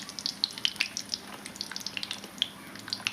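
Green chillies dropped into hot oil in a kitchen pan for a tomato and curd roti chutney, giving a soft steady sizzle with scattered sharp pops and crackles, close by and alone.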